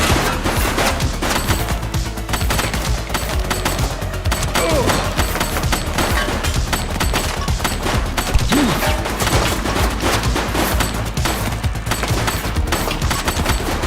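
Sustained rapid gunfire rattles through a firefight in The Precinct, dense bursts of loud shots layered with thuds and impacts, continuous and up close.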